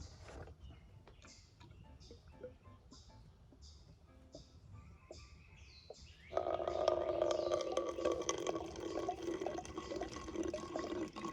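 Fuel poured from a portable can with a protective spout into the fuel bowl of a 1950 Chevrolet 4400 dump truck, a steady close liquid gush starting partway through after a few faint drips and clicks.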